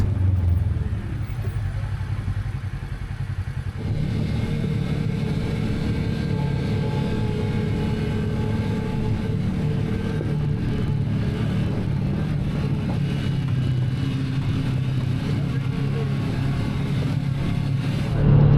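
Off-road vehicles rumble along the Seven Mile Rim Trail near Moab, Utah, a steady low engine drone that runs without a break, with a rise in intensity a few seconds in and a brief surge at the very end.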